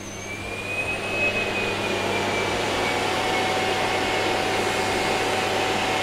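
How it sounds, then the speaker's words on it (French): A Roborock S7 MaxV Ultra docking station sucks dirt out of the robot vacuum into its dust bag with a steady, loud, whooshing suction roar that rises in the first second, then holds, with a faint high whine over it. "là il aspire directement les saletés qu'il y a dans le robot pour les mettre dans le sac à déchets"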